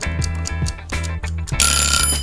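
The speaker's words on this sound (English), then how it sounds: "Set your timer for 10 minutes for the perfect pie." A Teenage Mutant Ninja Turtles toy pizza oven sounds its cooking-timer alert, a fairly loud electronic ringing with steady repeated beeps that ends in a brighter, sustained chime, with no talking.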